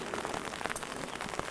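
Steady rain patters on a street in Holland, a dense, even hiss of drops lasting the whole moment with small scattered splashes, no voices over it.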